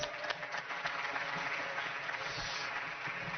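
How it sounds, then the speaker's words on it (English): Continuous audience applause fills a hall at a vocational excellence forum as guests are invited to the stage, a dense, steady patter heard at a moderate distance. "Yeah, you get some applause."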